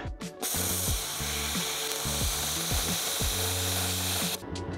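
A cheap plasma cutter freehand cutting metal gives a loud, harsh, continuous hiss and buzz close by, with wavering tones sliding underneath for a few seconds.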